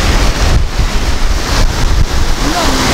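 Sea surf washing in steadily with the incoming tide, a continuous broadband rush of waves mixed with heavy wind buffeting the microphone, loud and close throughout.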